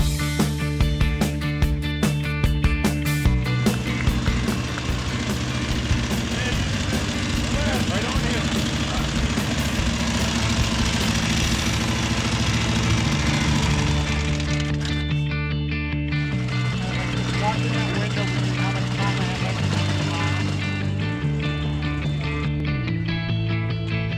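Old motorcycles from the Motorcycle Cannonball endurance run roll in at the National Motorcycle Museum in Anamosa, Iowa, a steady loud mix of engines throughout with shifting tones as machines arrive, voices mixed in.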